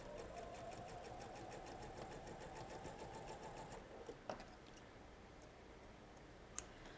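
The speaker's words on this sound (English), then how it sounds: "I'm going to go and grab my little ender, sew off on my ender" A sewing machine runs steadily as quilt pieces are chain-sewn onto an ender scrap, a continuous close motor whir with rapid needle ticking for about four seconds, then stopping, leaving a few faint clicks and handling sounds.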